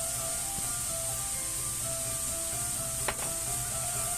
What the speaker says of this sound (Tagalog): Saute lang natin siya, halu-haluin.